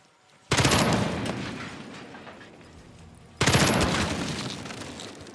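Two sharp, loud gunfire bursts in the tactical game Jagged Alliance 3, each striking suddenly and decaying with a long echoing tail, separated by a few seconds of fading reverberation.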